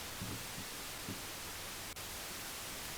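White noise test signal played back from a chrome cassette tape: a steady, loud, unbroken hiss that fills the whole clip, with a faint low thump or two near the start.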